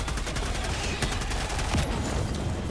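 A dense burst of gunfire and a bazooka blast in Helldivers 2, loud and continuous with rumbling low end throughout.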